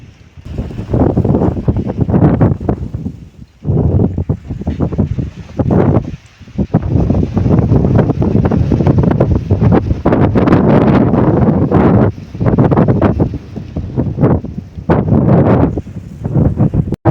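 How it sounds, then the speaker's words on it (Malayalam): Strong, steady wind on a hilltop fort roars and buffets against the microphone, surging in loud gusts with brief lulls, with no voices. "നല്ല കാറ്റടിക്കുന്നുണ്ട്"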